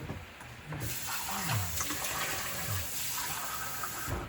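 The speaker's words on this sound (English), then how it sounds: "I'm going to put just enough water in here" Water runs steadily from a tap into a pan, splashing and filling it with a continuous gushing wash, fairly close and unaccompanied by talk.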